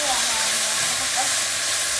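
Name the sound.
mushrooms and onions frying in a Dutch oven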